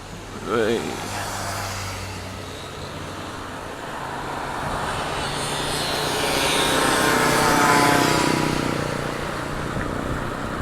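Mopeds ridden by kids pass by on a road, a rising and fading engine drone heard from an e-bike, peaking mid-way amid wind rumble and traffic noise.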